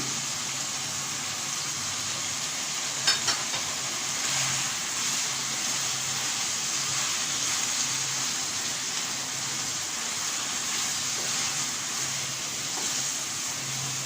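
Ginger and garlic paste frying with onion in a pan for a restaurant-style chicken green chilli dish, giving a steady, fairly quiet hiss and sizzle with a few brief louder crackles and no talk.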